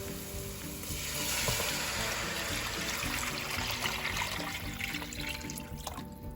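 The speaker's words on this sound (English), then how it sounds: "So now I'm going to add water." Water rushes into a hot pot of Haitian cornmeal with a loud hiss and sizzle that settles into a steady bubbling.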